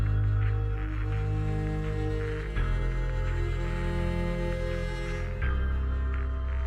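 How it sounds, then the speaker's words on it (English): Film-score music for Marvel's Thunderbolts, with piano picking out scattered high and low notes over sustained low pads and a steady pulse, loud and continuous throughout. "we just have the piano just picking out some notes high and low to help this"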